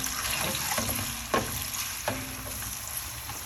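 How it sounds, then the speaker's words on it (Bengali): Chopped onions frying in oil until brown for haleem, a constant close sizzle with occasional sharp scrapes from stirring. "এখন এই পেঁয়াজ কুচিটা খুব ভালো করে ব্রাউন করে ভেজে নিতে হবে"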